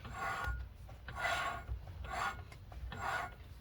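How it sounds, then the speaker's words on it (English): Two mating metal surfaces being lapped together with grinding compound, a soft rhythmic rasping scrape repeating roughly every second in steady back-and-forth strokes, quiet and close with no talking. "when I don't longer hear the grinding sound, I'll be finished and I'll be happy"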